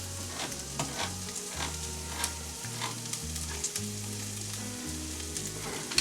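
Taco lasagna filling being stirred in a frying pan, with a steady sizzle and scraping, irregular spoon strokes across the whole stretch; no talking.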